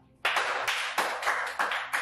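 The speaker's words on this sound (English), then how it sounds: "Class, let's give Rosa a clap." A classroom of students claps for a classmate, several quick bursts of hand claps rising and falling in an irregular rhythm, close and fairly loud with no talking.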